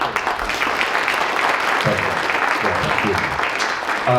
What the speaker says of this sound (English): A round of applause for Bill.